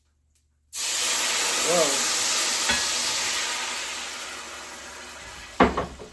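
White wine hits a hot pan holding fried chicken pieces, bursting into a loud, sustained hiss and sizzle that slowly fades, with a brief exclamation and a scraping clatter near the end.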